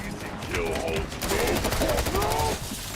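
Rapid bursts of gunfire from a video game, the shots coming close together and fairly loud, with some game sound effects layered between them.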